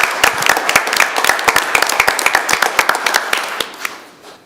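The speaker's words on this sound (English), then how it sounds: "let's give him a round of applause for that" A small group at a school board meeting claps for a student's regional doubles tennis championship, distinct, closely spaced claps from a modest number of hands that stay lively and then taper off near the end.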